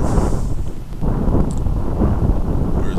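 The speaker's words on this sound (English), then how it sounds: "The wind got pretty good out of the south." Strong south wind buffeting the microphone while sailing a small model boat on a pond in San Diego, a loud, steady low roar with gusty swells and no talking.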